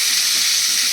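Potatoes, cut into large chunks, frying in hot oil for an egg and potato kalia, giving a steady, dense sizzle that holds evenly throughout at close range with no talking.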